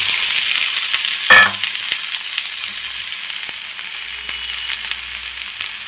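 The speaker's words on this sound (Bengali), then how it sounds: "কুঁদরিটা ঢেলে দিয়ে দিলাম" Ivy gourd (kundri) fries in hot oil, a loud, bright, continuous sizzle with a brief burst of clatter as the pieces go in, then steady crackling.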